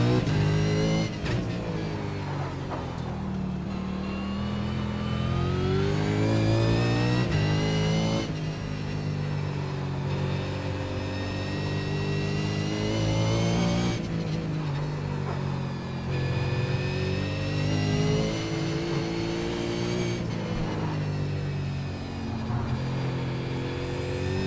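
A V8 Supercar racing at Oran Park in the iRacing sim, its engine roaring loud and close as it revs up through the gears, dips on lifts and shifts, then climbs again in repeated surges with no voices.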